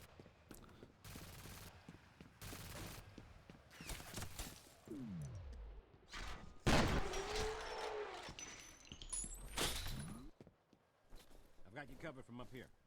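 Automated turrets fire in bursts in F.E.A.R. Extraction Point, broadband blasts scattered through a dense, chaotic game battle with swooping effects, a loud central surge and voices talking over it.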